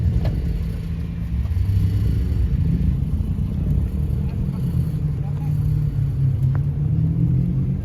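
Deep engine rumble from sports cars, including a Maserati 4200 GT, Ferrari 456 and Mustang Mach 1, idling and rolling in at a Paris car gathering, a steady low throaty drone with occasional revs, a voice talking faintly over it.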